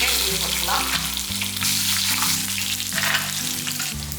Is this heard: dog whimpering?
no